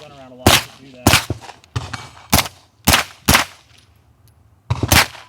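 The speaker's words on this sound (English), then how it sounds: "Then just coming out and shooting, it's a lot harder because you're moving the gun around a lot to do that." Rifle gunshots fired while moving during a shooting challenge, seven sharp loud reports in irregular pairs and singles with short gaps, close by and ringing out against the open air.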